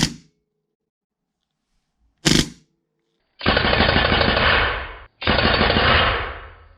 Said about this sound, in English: And the full auto is insanely awesome.